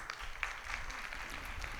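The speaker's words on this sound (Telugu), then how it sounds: "మీరందరూ మీకే ఒకసారి చప్పట్లు కొట్టుకోండి." An audience at the Divine Mercy church feast in Hyderabad claps together in a brief, dense burst of applause, steady and fairly distant, with no voices over it.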